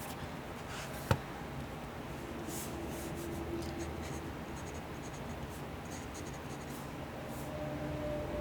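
A Teranishi guitar glass pen scratches softly across Maruman Mnemosyne notebook paper in a steady, close, quiet writing rub, with one sharp tap early on.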